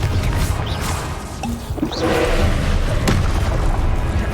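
A Confringo blasting spell bursts in the Hogwarts Legacy video game, a dense, loud rumbling blast that swells around the midpoint amid continuous battle noise, with a sharp crack near the end.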